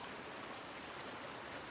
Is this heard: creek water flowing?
yes